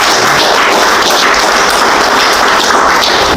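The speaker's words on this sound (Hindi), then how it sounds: "एक बार जोरदार तालियां भी।" A village chaupal gathering breaks into loud, dense applause, a continuous wash of many hands clapping together that keeps a steady level throughout, with no voices.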